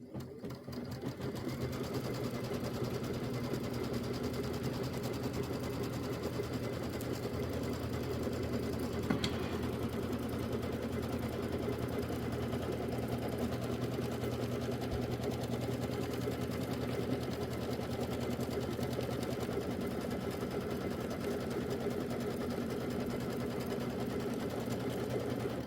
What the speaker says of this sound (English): So first step is going to be placement stitch for my batting.